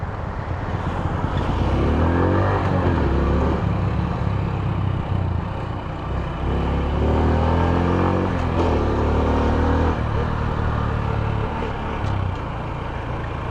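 A motorcycle's engine revs and pulls away in rising surges after being shifted into gear, on winding roads near Bo Kluea in Nan; loud, close and continuous, with no talking.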